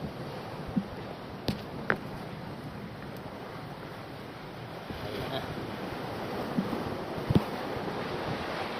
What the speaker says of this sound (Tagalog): Wala nang aircon yun, malakas ang hangin.